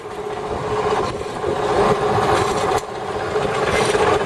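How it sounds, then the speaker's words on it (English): An Enco 7x12 inch, 115-volt, 4-speed belt-drive horizontal band saw runs steadily close by, a continuous mechanical whir and rasp with a steady hum and a brief dip near the end. "So here we have an Enco 7-inch by 12-inch horizontal bandsaw, 115 volt, 4-speed belt drive"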